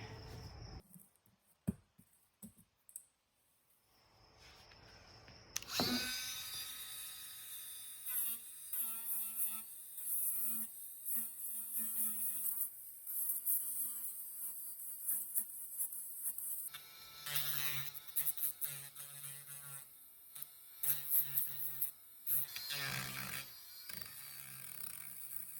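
Gel coat on a fiberglass storage locker of a Precision 16 sailboat is sanded out with a small power sander, starting after a few quiet clicks into a close buzzing whine that wavers and shifts pitch, with no talk.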